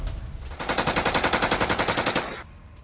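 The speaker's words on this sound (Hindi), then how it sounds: "ट्रेंच में छिपे रूसी सैनिकों पर जबरदस्त फायरिंग" Sustained burst of automatic gunfire aimed at Russian soldiers in trenches, captured in war news footage from Ukraine; about twenty rapid, evenly spaced loud shots run for nearly two seconds, then stop abruptly.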